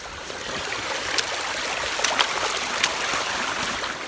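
A river runs through boggy forest in Scotland, giving a steady rushing and trickling wash of water at moderate loudness, with a few faint clicks rising above it.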